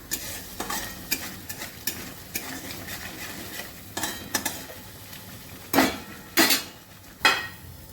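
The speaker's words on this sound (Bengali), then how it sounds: "এবার মশলাটা ভালোভাবে কষিয়ে নেব।" Coriander powder, cumin powder and salt are stir-fried into a masala for okra, with a spatula scraping the pan in repeated strokes over a soft, continuous sizzle, the last few scrapes louder.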